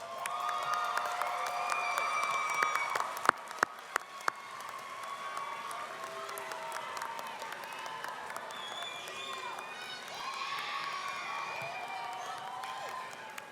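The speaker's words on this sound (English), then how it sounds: "turn to your loved ones and give them a wave and round of applause of thanks" Arena audience at a university commencement ceremony applauding and cheering their loved ones, a broad wash of clapping with scattered whoops and shouts, moderately distant and steady throughout.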